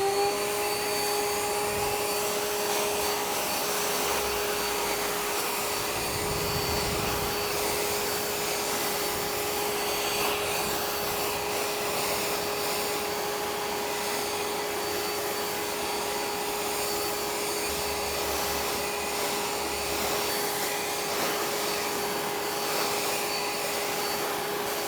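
A STIHL BGA 300 battery backpack blower runs at its highest power setting, a loud continuous whooshing rush of air over a steady electric whine, unbroken throughout, blowing wet hay off the ground outdoors.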